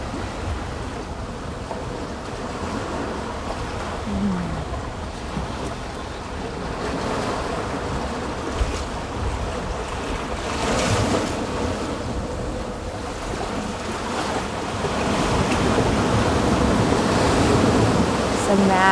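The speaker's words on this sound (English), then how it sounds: "with the sound of the ocean" Ocean waves wash steadily onto a sandy shore, a continuous broad roar of surf that swells louder toward the end, with some wind buffeting the microphone.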